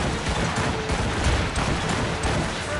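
Ship cannons in the Assassin's Creed Rogue video game fire in a rapid, dense volley, with loud, continuous booms and crackling blasts layered over one another.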